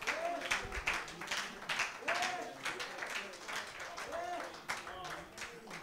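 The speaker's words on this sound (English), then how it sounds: "Oh, come on. Clap your hands." A church congregation claps hands during a lively worship service, bursts of clapping rising and falling rhythmically beneath a preacher's loud exhortations and shouting.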